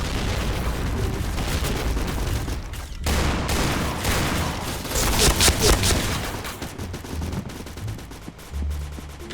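Dense, continuous gunfire with rapid bursts and heavy booms from grenade explosions in the video game Point Blank, loud and close, filling the whole stretch with little pause.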